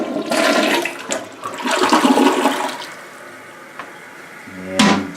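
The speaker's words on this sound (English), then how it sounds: "here's the inaugural flush" A newly installed household toilet is flushed for the first time: a loud, close rush and swirl of water for a few seconds, tapering into tank refill hiss, with a clunk near the end.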